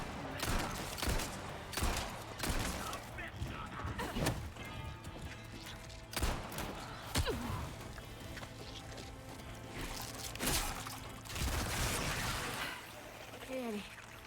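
Gunfire in the video game Resident Evil 4 Separate Ways, irregular bursts of shots and impacts mixed with clattering in-game effects, fairly quiet throughout.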